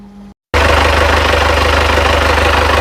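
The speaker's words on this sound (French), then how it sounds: "Bon, là on est bon, le moteur tourne, on voit bien l'eau passer." A boat engine runs during an engine test in the engine bay. It starts after a brief silence, then holds a loud, steady, close rumbling drone with dense vibration.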